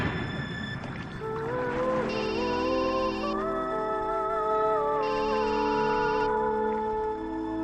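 A mobile phone ringtone plays as a steady, loud electronic melody with repeating bright chirping bursts, carrying on for several seconds with no talking over it.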